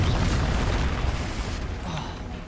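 The Confringo fire spell in Hogwarts Legacy goes off as a loud, rumbling blast with crackling debris. It swells at once, then slowly fades, with a brief flaring tail toward the end.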